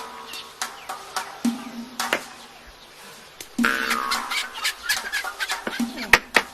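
Domestic chickens cluck and squawk close by, sharp repeated calls in an irregular rhythm growing busier and more agitated toward the end, with faint voices in the background.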